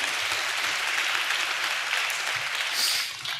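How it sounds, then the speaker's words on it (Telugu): A church congregation claps together during a worship service, producing dense, steady applause that fills the room at even loudness before easing off near the end. "చప్పట్లు కొడుతూ దేవునికి స్తోత్రాలు చెప్దాం"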